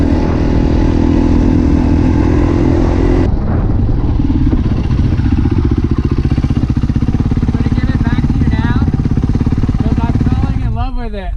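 A fuel-injected Yamaha dirt bike being ridden, its engine buzzing and revving loudly close up with a sharp shift in pitch partway through, while a rider's voice is heard over the motor.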